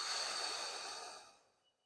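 One long, soft exhale during a slow somatic flower stretch for scoliosis and back pain, close and breathy, fading gradually to quiet near the end.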